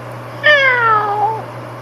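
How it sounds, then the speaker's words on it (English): A single clear cat meow, close and drawn out, falling in pitch over about a second against a quiet room with a low steady hum. "This is a cat."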